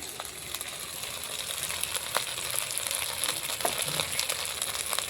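Spice masala fries with onion in a pan, giving a steady, dense sizzle with crackling throughout. A few faint scrapes or clinks sit over it. No one speaks.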